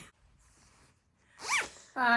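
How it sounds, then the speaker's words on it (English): Zipper on a handmade fabric project bag for knitting and cross-stitch, a quick rasping zip pulled near the microphone, brief and close, followed by a short voiced sound. "Zipper"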